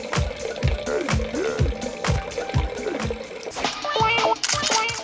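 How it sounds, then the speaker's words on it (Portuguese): Spring water runs from a stone spout at a 200-year-old house, now the Cora Coralina museum, giving a splashing trickle mixed with voices and tonal sounds. "A bica de água chama a atenção dos visitantes."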